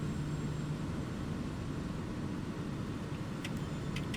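Airplane engine in a flight simulator game during a low, slow flyover with throttle reduced, a steady loud droning hum that stays even throughout, with a few faint high clicks near the end.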